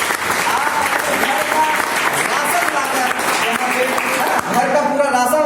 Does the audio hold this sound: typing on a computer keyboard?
no